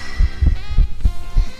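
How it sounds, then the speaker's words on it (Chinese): Heartbeat of a Japanese female livestreamer picked up by a microphone pressed to her chest, said to show a split first heart sound; five deep, regular, close thumps in a steady rhythm over a low hum. "让观众听她的心跳声。"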